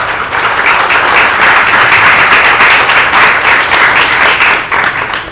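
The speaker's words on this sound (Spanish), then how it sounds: "un fuerte aplauso para ustedes" Steady applause from a seated audience at a local history lecture in Santa Marta, dense and loud throughout, with no voices over it.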